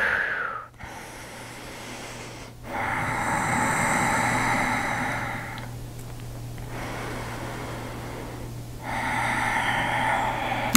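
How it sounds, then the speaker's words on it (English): Slow, deep breathing during a grounding yoga flow: long, airy inhales and exhales repeat in a steady rhythm, close and fairly quiet, over a faint low hum. "Breathe here."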